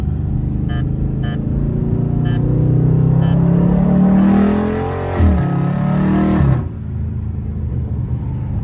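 Dodge Scat Pack car on the highway, a loud close engine roar that climbs in a rising rev, dips sharply during a gear change, then settles into a quieter cruising hum.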